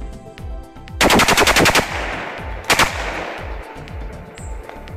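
Shotgun loaded with buckshot firing: a rapid burst of loud, sharp cracks packed closely together, then a single shot a moment later, with no voices.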